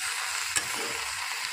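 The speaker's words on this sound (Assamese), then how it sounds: "চাওক শাকৰ ভাজি হৈ গ'ল" Wild greens dry-frying in a pan without water and being stirred, a soft steady sizzle with faint scraping throughout and one brief clink near the start.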